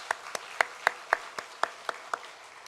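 A church congregation at a Sunday afternoon service claps, heard as about ten evenly spaced, distinct hand claps in a steady rhythm, fairly close and moderately loud.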